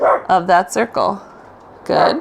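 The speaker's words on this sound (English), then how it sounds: "I apologize for the barking." A dog barks a few short yips in the room during a Pilates mat class with a magic circle, heard alongside an instructor's nearby talking.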